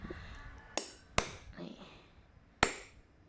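A number 8 hole punch is struck three times with sharp, bright metallic cracks spaced unevenly, with quieter handling sounds between the strikes.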